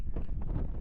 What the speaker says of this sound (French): Oh, ça souffle.